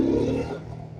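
A Zontes ZT200-C motorcycle engine revs close by, a loud throaty roar that tapers off into a steady idle rumble.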